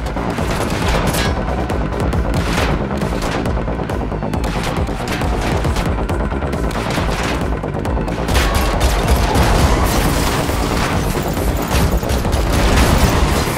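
Gunfire during a car chase in the Matrix Awakens Unreal Engine 5 tech demo: dense, continuous volleys of rapid shots and booms, loud and sustained throughout, mixed with driving noise and game score, with no talk.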